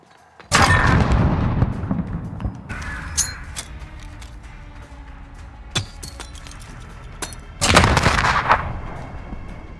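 Two heavy grenade blasts in a shooter video game on the St. Petrograd map, one loud burst early and another near the end, with scattered clicks and clatter between them.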